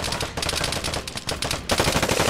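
Gunfire in the shooter game Vigor: rapid automatic bursts rattling almost without pause, loud and dense, with a brief break before another burst resumes.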